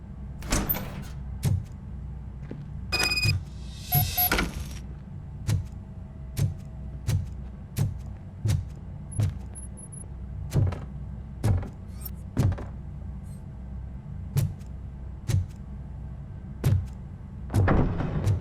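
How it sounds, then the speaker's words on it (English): A door grinds and thunks open in the video game RoboCop: Rogue City, a series of repeated mechanical knocks and clunks at a steady rhythm, fairly close, with a brief metallic whir early on and no talk. "Now let me get that door open for you."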